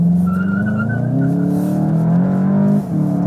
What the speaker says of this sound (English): Front rev only, and we start sports mode, S shifting mode, and we turn in the steering wheel and go all the way through.